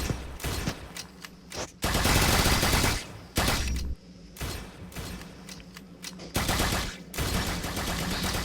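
Toxic Gunner towers in the Tower Defense Simulator game fire in long, loud automatic bursts. The rapid rattling stops and starts in several stretches separated by short pauses, with no one speaking.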